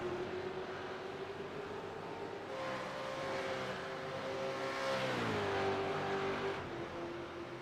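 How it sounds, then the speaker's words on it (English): V8 Supercars race car engine at the VIR circuit: a sustained, moderately distant engine drone whose pitch climbs and then dips through gear changes and braking, alone without talk. "And Kent Kruger spins it and not able to recover that car at T1"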